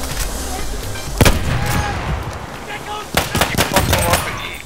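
A small gun fires in Battlefield 1, mixed with heavier gunfire and booms in a loud, busy battle: sharp cracks at about 1.2 seconds and a rapid cluster after 3 seconds.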